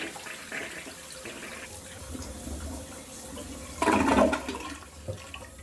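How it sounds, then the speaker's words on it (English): A household toilet on a septic system flushes, with a sudden loud rush of water near the middle, then draining and refilling water hiss around it, close by and without talk. "I'm doing the second flush for the toilet"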